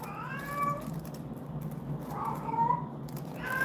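A house cat meows repeatedly indoors on a stormy day, two or three drawn-out, wavering calls at moderate distance over a steady background hum, with no talking.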